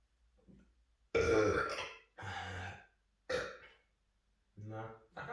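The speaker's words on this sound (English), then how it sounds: "That fucking burp just lingered." Burps after drinking Tsingtao lager, several loud close belches in quick succession with short pauses between, the last ones shorter and more voiced.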